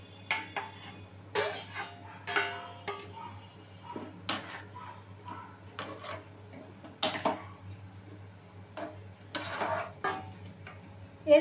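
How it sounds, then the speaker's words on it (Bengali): Pieces of fried paneer go one by one into a cooking pan, each bringing scattered clinks and knocks of a metal utensil against the pan, separated by quiet gaps. "এরপরে আমি ভেজে রাখা যে পনিরগুলো আছে সেইগুলো আমি দিয়ে দিলাম একে একে।"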